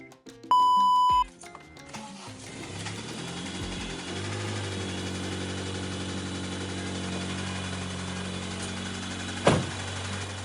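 A first-generation Acura RDX Turbo, just fitted with a new starter, sits running at a steady idle after a short electronic beep, with a soft ticking noise in the hum and one brief louder knock near the end.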